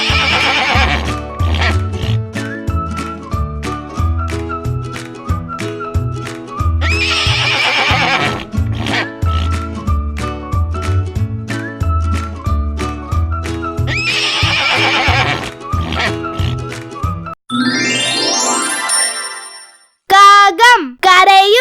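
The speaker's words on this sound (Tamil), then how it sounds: "Horse neighs." A horse gives a loud, close neigh and then a shorter whinny near the end, after a long stretch of bouncy instrumental children's music.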